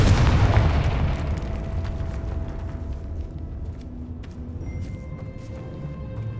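A Confringo blasting spell explodes in the Hogwarts Legacy video game, a heavy booming burst up front that decays into a long, rumbling tail with faint ringing debris, no voices.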